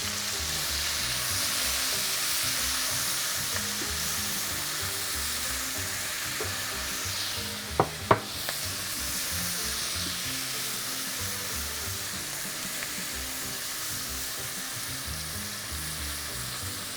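Onions frying in hot bacon fat in a pan, a dense continuous sizzle throughout with a couple of quick utensil clicks midway.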